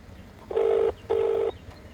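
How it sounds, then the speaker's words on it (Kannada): A phone being dialed gives two clear, evenly spaced electronic tones, each under half a second, close and loud against a quiet room background. "ಆಕಾಶ್ ಹಂಗಾರು ಫೋನ್ ಮಾಡೋಣ."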